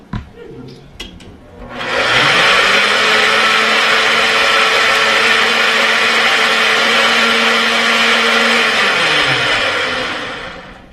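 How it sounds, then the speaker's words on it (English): An electric blender whizzes ingredients during a cooking class, starting after a brief clatter and running at a loud, steady roar for about eight seconds before spinning down. "Very important, put the top on your blender"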